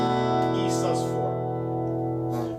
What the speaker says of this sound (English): Strumming all 6, here's what it sounds like.